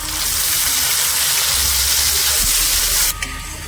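Chopped tomato hits a frying pan of onions and sizzles loudly and steadily for chicken kasha cooked without water, the hiss easing off near the end, with no talk.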